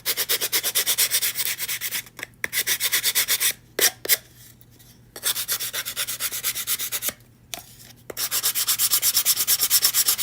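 Hand sanding with sandpaper instead of an electric sander, fast rhythmic back-and-forth scratching strokes up close, in several bursts broken by short pauses.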